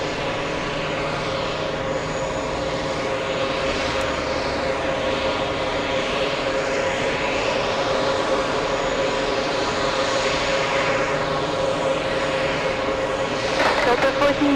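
A Boeing 777 jet airliner at JFK airport gives a steady loud engine roar and whine that holds throughout, close and unbroken, with a faint voice underneath.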